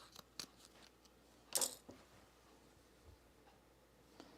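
A length of sewing thread is snipped with scissors: a single sharp, close snip stands out among a few faint clicks and handling taps in a quiet room.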